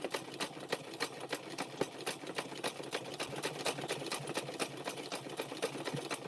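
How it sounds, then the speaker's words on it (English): A sewing machine stitches a fabric-wrapped rope handbag while thread twists off a cone and feeds through the tensioner. Faint, fast, evenly spaced clicking continues steadily throughout. "See that click noise I just heard? That's the thread twisting coming off of the spool"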